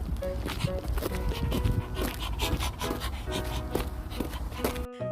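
Voices imitating a dog's barking and panting repeat in quick bursts over a dense, lively backdrop, as at a concert night in New York.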